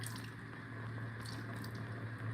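Pineapple juice is poured into a bowl for a vegan candied yam dish, giving a quiet, continuous liquid trickle against a low steady hum.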